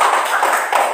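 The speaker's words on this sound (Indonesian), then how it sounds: "Tepuk tangan." A classroom full of students clapping together, a short dense burst of applause heard up close.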